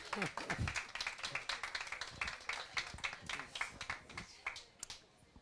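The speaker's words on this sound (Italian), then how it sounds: "salutiamo con un applauso caloroso Monsignor Vincenzo Paglia" An audience at an evening presentation gives Monsignor Vincenzo Paglia a warm welcome, with dense, close applause from many hands that fades over a few seconds.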